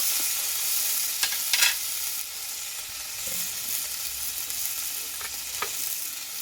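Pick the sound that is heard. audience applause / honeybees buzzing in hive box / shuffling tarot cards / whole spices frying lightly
whole spices frying lightly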